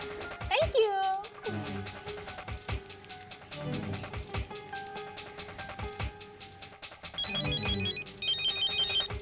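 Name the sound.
phone ringing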